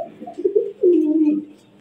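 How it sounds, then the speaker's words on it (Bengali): Fancy black Arabian pigeons cooing close by, a short soft burble followed by one drawn-out low coo, alone with no talk. "এটাই আমার কবুতরগুলো দেখানো ট্রাই করতেছি আপনাদেরকে"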